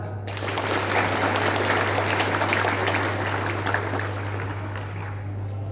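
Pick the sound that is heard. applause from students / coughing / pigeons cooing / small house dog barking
applause from students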